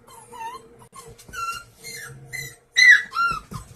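Young puppy whimpering and whining in high, wavering cries, a string of short squeals rising to a louder burst near the end, with a faint steady hum beneath.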